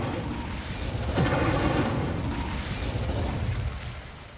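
A fiery blast from the Incendio fire spell in Hogwarts Legacy, a loud whooshing burst that swells around the middle and rumbles on for several seconds before fading, with no talk.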